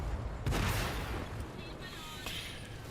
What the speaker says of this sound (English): And the T-29 gets the last shot in, and that's the end of that